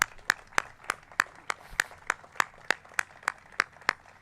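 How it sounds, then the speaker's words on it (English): Clapping at a mayor's housing funding announcement, a steady run of evenly spaced, crisp claps about three per second, sounding like a few hands rather than a full crowd, with no talk over it. "So let's give them a round of applause."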